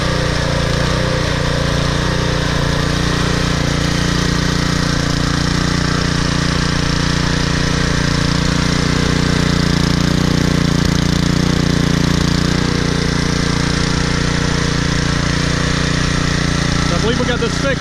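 A Troy-Bilt Super Bronco CRT rear-tine tiller runs close by on old gas, with a loud, steady engine drone and a low hum throughout. A faint voice may sit under the engine noise.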